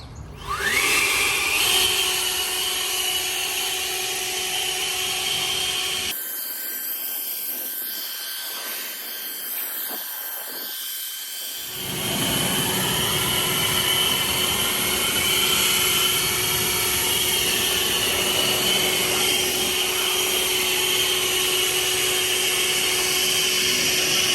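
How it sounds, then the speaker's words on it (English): An Ego leaf blower drives air over a freshly washed car, a loud, steady roaring whine with a constant high tone that drops away for several seconds mid-clip before resuming at full strength, alone without voices. "Any residual, we'll hit it with the Ego blower."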